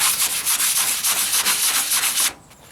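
Bondo filler on the driver's side wheel arch of a 1998 Ford Ranger is sanded by hand in rapid, rhythmic strokes, giving loud, close, gritty rasping that stops abruptly near the end.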